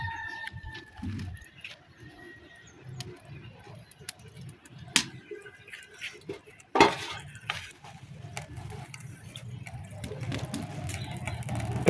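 Boiled greens go into oil in a pan and are stirred with scattered scrapes and clinks and a soft sizzle. A rooster and other birds call faintly in the background.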